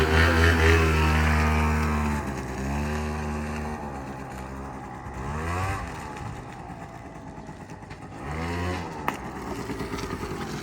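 A Yamaha Jog SA16 scooter engine revving as it rides, loud at first then settling into a steadier drone with rising and falling pitch sweeps as it accelerates, without talk.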